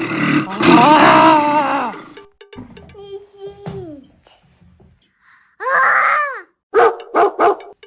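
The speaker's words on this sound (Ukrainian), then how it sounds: "Хто це гавкає? Це гавкає песик." A person voices a dog's barks and whining howls for young children, with a long wailing cry followed by a few short, loud yelps close by, separated by quiet gaps.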